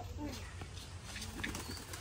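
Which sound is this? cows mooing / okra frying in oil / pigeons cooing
pigeons cooing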